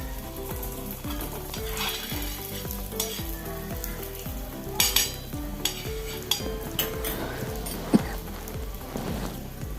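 Wheat flour snacks fry in ghee on a tawa with a continuous crackling sizzle, joined by intermittent metal scrapes and utensil clinks as pieces are placed and turned.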